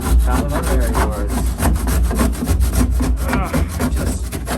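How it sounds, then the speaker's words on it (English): A hand saw cuts through cardboard hardened with epoxy in steady, loud back-and-forth strokes, each pass giving a rough, scraping rasp, close up and without talk. "I'm gonna keep sawing for a bit"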